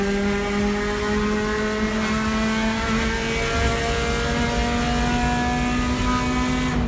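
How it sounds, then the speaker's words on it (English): Three Honda Civics racing through traffic at about 220 km/h on a Saturday night in Osaka. Engines roar loud and sustained with a high, steady whine, and road and wind noise rush throughout. "Three Civics racing through traffic at 220 kilometers an hour at 9 o'clock at night"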